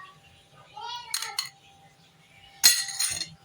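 A metal spoon clinks against a pot as a spoonful of ghee goes into vegetable biryani, giving a few bright, brief taps with faint background sounds and a voice earlier on.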